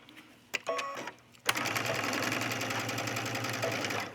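A domestic sewing machine stitching a garment collar, a couple of short hesitant bursts followed by a steady, continuous mechanical whir of rapid stitching close by.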